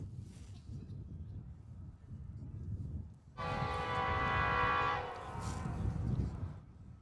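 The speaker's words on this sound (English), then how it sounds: "here comes the train" A train rolls past close beside an outdoor soccer field, its loud horn blaring with a steady rich tone for a couple of seconds over the low rumble of the wheels, then easing back to a steady rumble.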